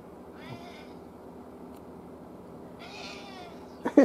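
A pet cat meows indoors, two short mid-pitched calls about two and a half seconds apart, heard close against a steady low room hum, followed by a brief thump near the end.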